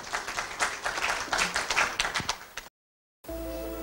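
Applause greets a tourism technology director at a Thai event, a moderate wash of clapping from the audience with uneven bursts, followed by a short silence and then music.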